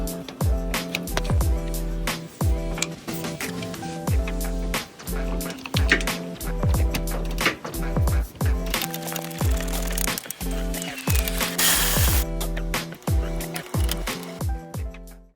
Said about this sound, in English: I use the cordless ratchet to remove it completely